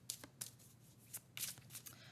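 A deck of tarot cards is shuffled by hand in a series of soft, papery riffles and flicks, close up and fairly quiet over a low hum, in irregular bursts.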